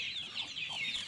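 Chickens, including young village chicks, clucking and chirping in a farm coop, a quick run of soft close calls over a short stretch with no talk.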